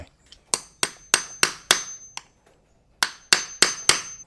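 Sharp metallic hammer strikes ring out in two quick bursts of about five blows each, separated by a brief pause, close and loud, as a gear is driven onto its seat in a Hitachi G10SS 4-inch angle grinder.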